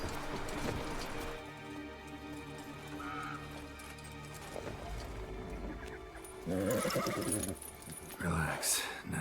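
A horse pulling a cart in The Witcher 3, with hoof clip-clop and a whinny over a steady low rumble, and a voice talking through most of it.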